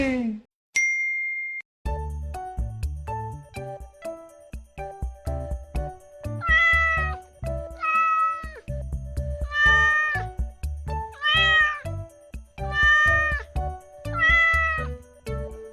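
A cat meows repeatedly, several distinct rising cries spaced over the clip, over a light tinkling, jingly musical background.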